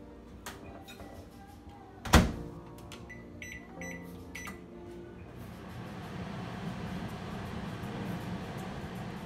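Microwave oven warming soft tortilla bowls: clicks and a sharp thud as the door shuts, a few beeps from the keypad, then a steady low hum as the oven runs.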